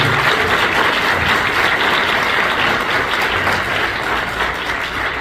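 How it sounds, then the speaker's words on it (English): A large crowd claps steadily and loudly at an event with House Minority Leader Hakeem Jeffries, sustained applause filling the space without a break. "Come on, clap your hands for her."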